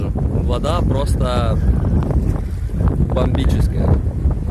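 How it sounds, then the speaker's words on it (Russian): Heavy wind buffets the microphone in a constant low rumble throughout at a resort aqua park, with a person talking underneath. "потому как тут ветрено"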